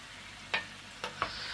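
Leeks seasoned with salt, chili flakes and black pepper sauté quietly in a pan: a faint, soft sizzle broken by three brief spatula scrapes.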